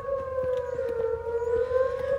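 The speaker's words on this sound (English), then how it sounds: "Thunderbolt's like my favorite freaking siren here." A Thunderbolt civil defense siren wails with a steady, sustained tone and overtones that rise slowly in pitch, heard loud from a moderate distance under faint background crackle.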